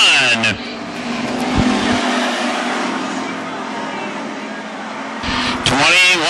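WISSOTA street stock race cars roar around a dirt track at Ogilvie Raceway, a loud sustained engine drone from a passing pack, with an announcer talking over the start and end.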